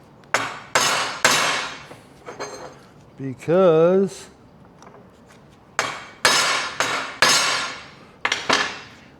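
Sharp metallic hammer blows on a center punch mark holes in steel for trailer drop-down ramps, arriving in short clusters of strikes with a brief squeaky tonal sound between them and a few words of speech.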